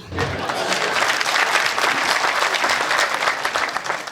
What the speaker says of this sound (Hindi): मेरे सम्मान में जितनी घनघोर तालियां आपने बजाई हैं